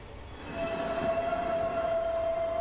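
Train passing in the Train Simulator 2015 video game, a steady rolling rumble with a sustained high wheel squeal coming in partway through, fairly close and continuous, no talking.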